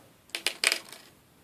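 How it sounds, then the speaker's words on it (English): Dice tumble across a table during a tabletop game, giving a quick cluster of bright clattering rattles that lasts under a second, close and fairly clear, without speech. "So, let's roll the guard's dice."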